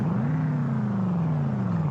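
A deep, loud Chevy pickup truck engine in the game BeamNG.Drive drones steadily, its pitch rising slightly then sagging, with no voices over it.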